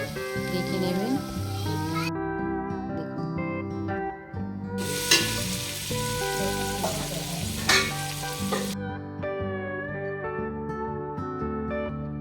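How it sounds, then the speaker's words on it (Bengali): Green peas fry and get stirred in a pan for a tahari dish, making a crackling sizzle that swells into louder bursts midway, under a steady tonal musical backing, with no speech. "মটরশুঁটি দিয়ে দিন ওর মধ্যে দিয়ে ওকে ভালো করে নাড়াচাড়া করতে হবে"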